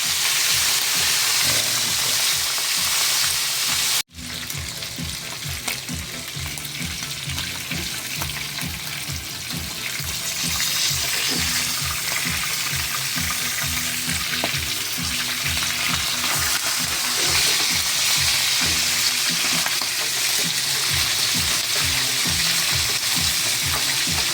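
Fish frying in a pan of hot oil gives a loud, steady sizzle with constant splattering crackle, broken by one sharp cut near the start before resuming unchanged.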